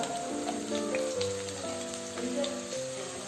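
Roughly chopped onion sautéing in hot oil for a dhaba-style green peas masala, a steady close sizzle and hiss running the whole time beneath a soft melodic background tune.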